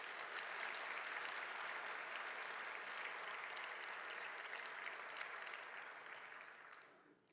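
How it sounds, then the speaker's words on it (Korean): Congregation in a church applauding to welcome a visiting missionary, a dense sustained clapping that stays loud for several seconds before fading out at the end. "여러분 박수로 한번 환영해 주십시오"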